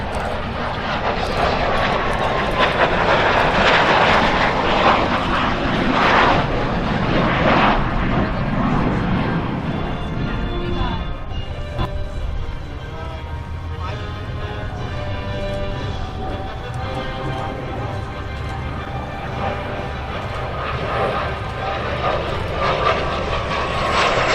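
The Military Aviation Museum's Messerschmitt warbird flies at EAA AirVenture Oshkosh 2025, its piston engine droning loudly and continuously as it passes, the tone shifting and easing as it moves away, with occasional commentary in the background.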